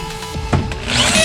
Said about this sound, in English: when you're putting screws in, you know, to make it easier, make it nice, you want to make sure you got a powerful drill